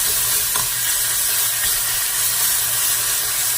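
Hot vegetable oil sizzles and hisses steadily in a pan while a tofu avocado red curry is cooked, a constant loud frying crackle with faint stirring knocks and no talk.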